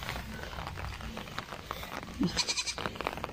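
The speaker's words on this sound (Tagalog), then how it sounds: "So ito guys, ang kambing namin." A goat in a grassy area behind a house gives a short bleat partway through, close by, after a stretch of quiet outdoor ambience.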